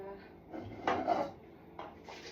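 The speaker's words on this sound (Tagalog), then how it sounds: "So, maghugas tayo ng kaldero." Cooking pots and their lids clank and knock while being handled for washing, with several separate metallic bumps and scrapes at close range, some sharper than others.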